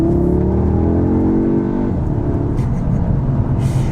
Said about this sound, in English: they have amped up the aggression on this exhaust